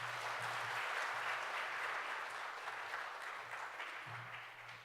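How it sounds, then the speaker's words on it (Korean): Church congregation at a Korean early-morning special prayer service applauding to welcome a pastor to the pulpit, a soft, steady wash of clapping heard from a distance, gradually fading over a few seconds. "우리 박수로 모시도록 하겠습니다."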